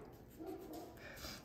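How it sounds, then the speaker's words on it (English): Several dogs bark faintly from somewhere off to the side, short yips and woofs in a quiet room. "Uh-oh, there go my dogs."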